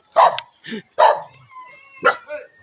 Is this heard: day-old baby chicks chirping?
no